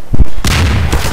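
Gunfire in the video game Half-Life 2: Episode 2: a loud, close burst of shots with a sharp onset, followed by sustained booming reports that ring on for about a second.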